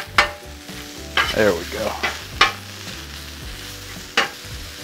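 Chorizo and potatoes sizzle on a Blackstone griddle, with a soft frying hiss under several sharp metal spatula scrapes and stirs. A voice speaks briefly.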